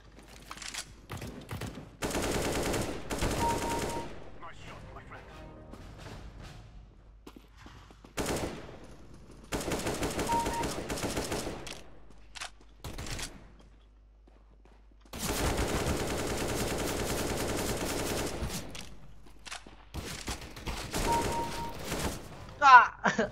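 Repeated bursts of automatic gunfire in the video game CSGO, long rattling volleys broken by short quiet gaps, with a voice talking over parts of it.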